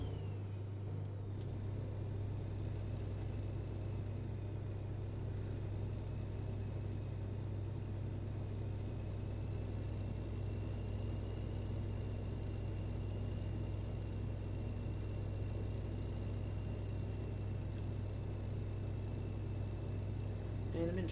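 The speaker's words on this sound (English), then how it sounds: "Listen to that engine." A heavy truck engine idling and running in American Truck Simulator, a steady low rumbling drone with a constant hum that holds evenly throughout, alone and without talk.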